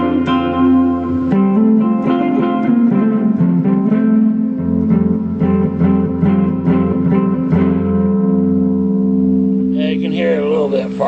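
An electric guitar played straight through a 2x12 guitar cabinet amp with no reverb, sustained chords and picked notes ringing loud and close with slight breakup, ending in a brief burst of noisy strumming.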